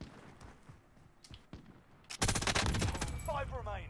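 Bursts from the MG 82 light machine gun in Warzone, a rapid, loud stream of shots erupting after a quieter stretch with a few scattered single shots, with a voice briefly audible underneath.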